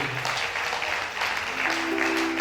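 An audience at an evening church ceremony applauds loudly and continuously, a dense wash of clapping with faint voices mixed in.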